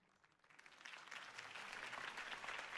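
Crowd applause swells from light clapping into a steady, dense ovation in a Batman Telltale game scene, rising over the first second and holding loud to the end with no talk.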